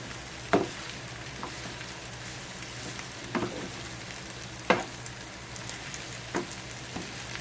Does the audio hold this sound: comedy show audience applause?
no